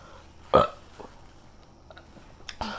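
A short, sharp burp pops out close to the mic after eating, followed by a few faint mouth sounds and a second, softer burst at the end.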